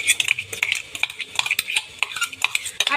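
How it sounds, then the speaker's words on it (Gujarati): A spoon stirs spice paste for ivy gourd curry in a pan, a close, busy run of scraping and clinking strokes that scrape and tap on and off without pause. "અને આને બરોબર હલાવી લઈશું"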